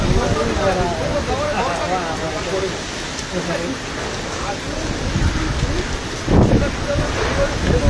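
Heavy rain pours down in Rupnarayanpur in a dense, steady hiss, loud and close, with a brief louder burst near the end. A voice talks over it.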